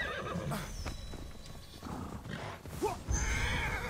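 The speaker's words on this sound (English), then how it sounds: "Now I have a real horse." A horse in the video game Immortals Fenyx Rising gives a clear, close neigh, followed by quick hoof clip-clops, set over a steady game ambience.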